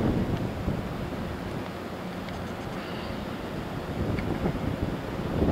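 Steady low rumbling gusts of strong wind from Hurricane Igor buffet the microphone, with a faint wash like distant surf underneath and no voices.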